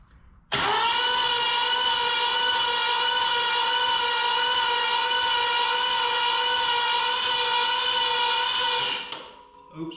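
A Ford 429 V8 in a 1934 Ford Coupe street rod turning over, a loud steady whining hum that starts abruptly and holds unbroken for about eight and a half seconds before stopping, then a brief rattle.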